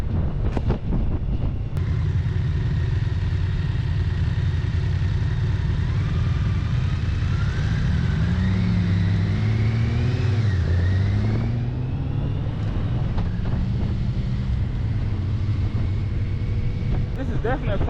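A 2024 BMW K1600B motorcycle engine hums steadily while riding, with rising and falling revs and wind rush throughout, loud and close with no voice over it.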